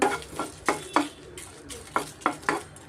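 Seeds and chillies are roasted in a pan, heard as a series of sharp spatula scrapes and clinks against the metal at an irregular pace over a faint sizzle, close by, with no talk.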